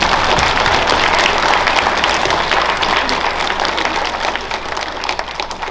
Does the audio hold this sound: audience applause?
yes